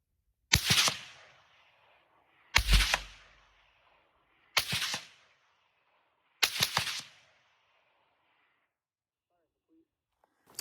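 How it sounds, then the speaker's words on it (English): Four rifle shots fired on a hillside, each a sharp loud crack of the round passing followed by a short decaying thump, spaced about two seconds apart, then quiet. "how loud the crack of the round is going past you"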